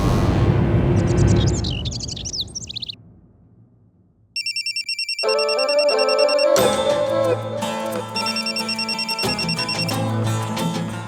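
An electronic phone ringtone sounds in a household scene from a Hindi crime drama: a repeating high beeping melody that starts after a short lull, then continues loudly over background music, with no talking.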